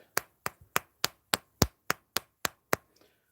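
A steady run of about ten sharp, close taps, evenly spaced like a hammer striking wood, with silence between each.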